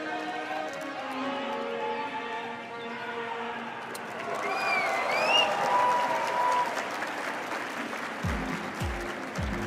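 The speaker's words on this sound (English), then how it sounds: "Huge round of applause to our Socrates." Crowd applause and cheering at a DreamHack cosplay contest in Mannheim, rising from a steady background of audience clapping, with whistles and a sustained roar from about four seconds, plus some low thuds near the end.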